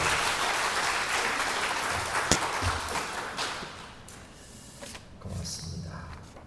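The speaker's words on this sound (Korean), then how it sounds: "다시 한번 우리 하나님께 영광의 박수 한번 올려드리겠습니다" A church congregation at a revival service applauds in praise, a thick roar of clapping that thins and fades toward the end, leaving a few scattered claps and faint stirring.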